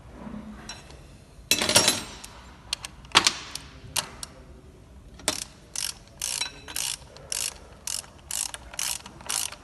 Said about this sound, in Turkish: Daha sonra civatamızı sıkabiliriz.